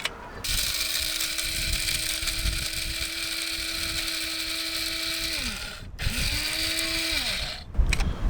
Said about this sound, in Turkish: Şöyle baharatımı iyice çektim.